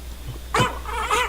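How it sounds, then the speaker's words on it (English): Short dog vocalization from a video game sound pack, recorded from a real dog: a brief bark-like yelp followed by a second whining call, fairly close and clear with no talking. "Every dog sound is a clip of Gabe the dog, dog source"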